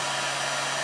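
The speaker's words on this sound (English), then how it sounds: "shot of steam" A steady jet of steam blown into a hot air stream around 228 degrees F, a continuous broadband hiss and rush with a low hum underneath, loud and close, with no speech.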